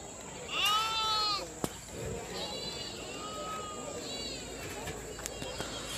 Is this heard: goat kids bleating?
yes